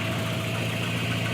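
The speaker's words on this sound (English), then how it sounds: "We're gonna let her idle for a minute before" A Volvo 240's engine idles steadily and close by, a continuous low rumble with an even mechanical hum and no talking.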